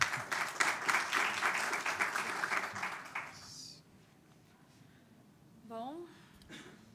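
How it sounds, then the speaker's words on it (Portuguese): Audience applause at a sustainability debate, a burst of clapping that fades out after a few seconds, followed by a quiet room with a faint voice. "eu queria abrir, por favor, uma salva de palmas aqui para a Nina começar."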